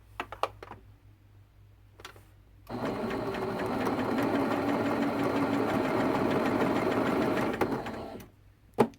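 Sewing machine stitching quilt pieces: a few clicks, then a steady, loud mechanical whir runs for about five seconds before stopping, with more clicks and taps after, up close.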